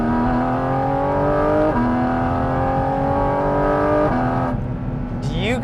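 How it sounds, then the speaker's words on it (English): A Porsche 718 GT4 RS engine howls loud and close through its carbon airbox, holding high revs with sharp upshifts that briefly drop the pitch, then a quieter moment and a fresh climb at the end. "because of the airbox being literally right behind our head, that's fully carbon with these air intakes as part of those rear quarter windows, we can really hear the sound of this car"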